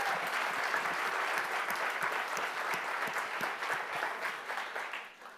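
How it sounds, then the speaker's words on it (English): Steady round of applause from an audience at a community leadership gathering honoring the day's speakers, dense and sustained for several seconds before tapering slightly at the end. "can we have one more round of applause for everybody who spoke today?"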